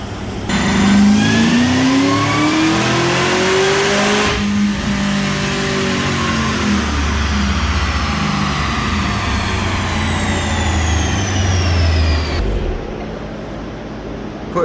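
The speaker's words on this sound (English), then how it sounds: "we're gonna do a baseline pull just to see where the car is at now." A stock-engine Cadillac CTS-V making over 800 hp roars through a wide-open dyno pull, its loud engine note climbing steadily in pitch for about twelve seconds before cutting off abruptly.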